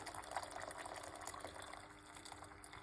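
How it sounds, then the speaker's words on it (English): Hot water poured steadily into a cup while making tea: a continuous, fairly soft splashing trickle that runs without a break for about three seconds, with no voices over it. "now let's pour some hot water. 1 cup of hot water."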